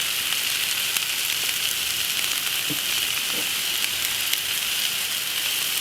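Hibachi vegetables sizzle on a Blackstone griddle, a loud, steady hiss with fine crackling that runs without pause, close up, with a couple of faint clinks mid-way.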